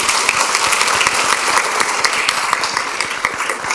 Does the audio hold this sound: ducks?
no